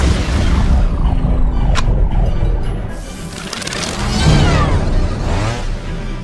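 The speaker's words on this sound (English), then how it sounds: "The driver tossed out a couple of bombs to destroy the pursuing bikes." Explosions of bombs thrown at pursuing light cycles in a Tron Legacy chase, heavy rumbling booms with whooshing debris under a dense, loud action soundtrack, no talking.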